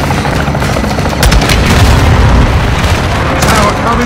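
Aerial gun run tearing into and toppling a tower in Call of Duty Modern Warfare 2, heavy booming impacts and rumbling blasts swelling after a second, loud and sustained with a fiery, crackling debris wash.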